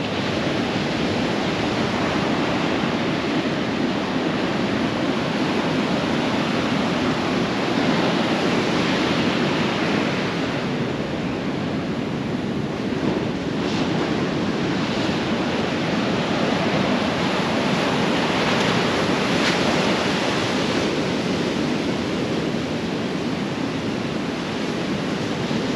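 Ocean surf rolls in continuously at Canaveral National Seashore, a loud, unbroken roar of breaking waves with no voices.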